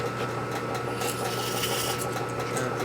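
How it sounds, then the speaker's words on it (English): A hand file rasps a channel into a part for a rebuilt 1946 knucklehead 84ci stroker motor, in quick, even back-and-forth strokes heard close up with no talking. "Put a channel for the OD by filing."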